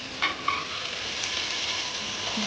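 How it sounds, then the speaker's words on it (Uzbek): Tomatoes and garlic sizzle with chicken in a pan for a chicken jarkop, a continuous close, even frying hiss with a couple of brief stirring clatters near the start. "Ketidan pomidor va chesnoklarni solamiz va qovurishga o'rnatamiz."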